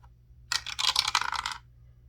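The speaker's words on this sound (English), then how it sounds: "we're going to roll the dice to see how many we will be coloring today" Dice rolled once across a hard surface, a close, bright rattle of clicking tumbles lasting about a second before settling to silence over a faint background hum.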